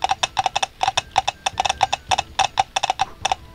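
Horse hooves clip-clop in a quick, steady series of sharp, close knocks, evenly spaced and clear with no talk over them.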